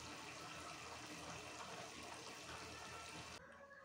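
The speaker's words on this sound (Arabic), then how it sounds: "حضرتك سامع صوت المية؟ سحبت المية دلوقتي" Hotpoint Ariston Aqualtis washing machine draining, a steady rushing gush of water being pumped out, continuous and faint, dropping slightly in level near the end.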